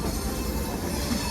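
The Vikramshila Express pulling out of Anand Vihar station, a steady low rumble of rolling wagons with faint wheel clatter, loud and close for a brief moment.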